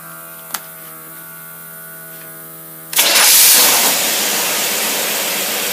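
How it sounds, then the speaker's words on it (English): A quiet electrical hum with a single click, then a boat engine kicks in with a burst and settles into a smooth, steady, low-RPM idle. "That thing's idling so smooth and such a low RPM."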